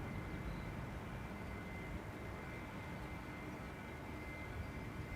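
Singapore Airlines jet taking off from Polderbaan runway 36L at Amsterdam Schiphol on a sunny morning, a faint steady broadband engine roar heard at a distance, continuous and unbroken with no talk.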